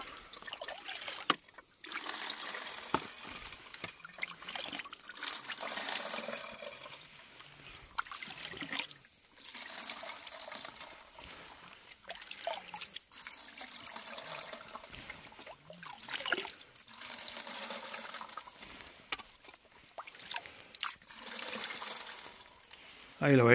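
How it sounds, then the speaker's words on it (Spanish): Water is poured and trickles over a pan of shovelled gravel while gold panning outdoors in the Pyrenees, coming in several uneven splashing bursts with short pauses between them. "echo agua."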